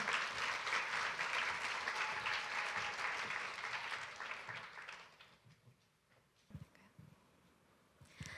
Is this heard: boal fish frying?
no